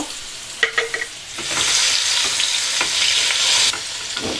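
Potatoes sprinkled with turmeric fry in hot oil in a pan, a loud steady sizzle with clinks and scrapes from stirring near the start, no voices.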